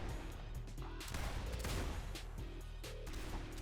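Distant gunfire crackles through a shooting battle between two teams, with repeated sharp bursts and scattered single shots over steady outdoor background noise.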